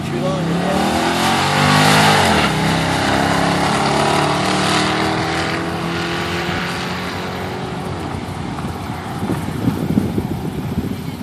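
A 1998 Corvette accelerates hard on a quarter-mile drag run, its engine rising through the gears in loud climbing sweeps, then settling into a steady roar with rattling noise toward the end.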